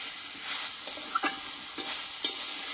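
Pumpkin and pointed gourd being stir-fried in a pan, with soft scraping stirs and a faint steady sizzle, marked by a few sharp spatula clicks against the pan.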